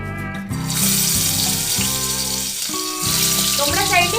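Potatoes coated in salt, turmeric and Kashmiri chili powder fry in hot oil with a continuous hiss and crackle, under a droning hum and bursts of background music or tones, with brief speech.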